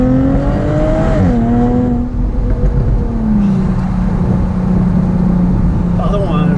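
A powerful car engine revs hard, its pitch climbing and falling in strong sweeps, then settles into a sustained loud drone with shifts near the end, with someone talking over part of it.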